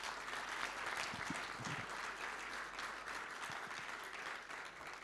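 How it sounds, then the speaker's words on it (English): A summit audience gives a round of applause to panel guests, sustained, dense clapping filling the hall at a steady level for several seconds, with a faint murmur of voices beneath it. "So please give a big round of applause to our guests."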